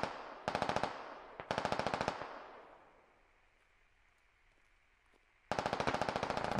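Vehicle-mounted machine gun fire in the video game Squad, heard as three loud rapid bursts, the first two close together, then a quiet lull with a fading echo before a final burst.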